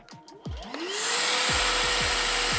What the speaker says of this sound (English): We're gonna turn on the vacuum here.